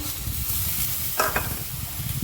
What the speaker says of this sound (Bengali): এটা ভালো করে কষে নেব।